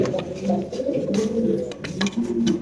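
Pigeons, among them a black fantail, coo in low, soft, rolling calls at a pigeon seller's stall, layered and continuous at close range.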